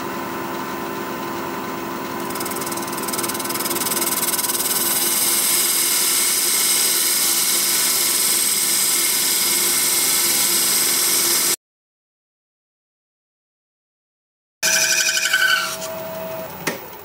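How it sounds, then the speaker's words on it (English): A wood lathe spins at about 1100 RPM while a thin parting tool cuts a ginkgo biloba salt cellar, giving a steady whine and scraping hum. It drops out briefly, then returns with a rising tone. "I'm going to use my thin parting tool again."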